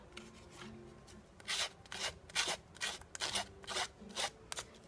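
A Cricut distressing tool rubbed along the edge of a paper sheet, giving a series of about eight short, dry scraping strokes in a steady rhythm, close and fairly quiet, with no talking.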